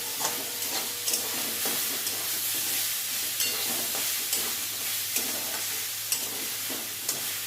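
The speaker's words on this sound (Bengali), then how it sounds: "শাকের জলটাও টেনে দিচ্ছি, দেখুন আর জল নেই।" Spinach cooking down in a hot pan as its remaining water evaporates, a dense constant sizzle and hiss with regular light spatula scrapes and clinks throughout, heard up close without speech.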